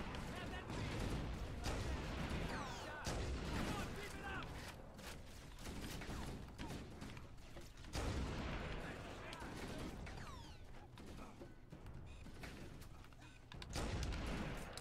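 Gunfire in a Halo battle against the Covenant, with repeated bursts of shots and mechanical clanks spread through the scene, fairly faint and mixed under voices talking.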